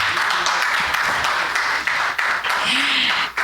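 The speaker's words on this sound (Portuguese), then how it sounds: "exatamente merece todos os nossos aplausos" Continuous clapping fills a municipal council chamber as an audience applauds a Paralympic champion. The dense, loud wash of hands runs throughout, with a voice speaking briefly over it.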